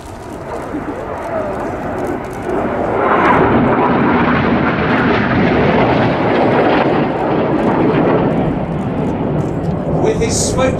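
Red Arrows display jets roar past at an air show, a loud sustained broadband jet rush swelling midway and holding, with a commentator's voice over the public address.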